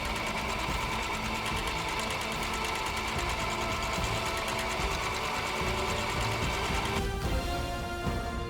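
A domestic sewing machine stitches fabric pieces for an Edwardian tea gown, running in one long, steady, close mechanical whir that shifts tone near the end without pausing.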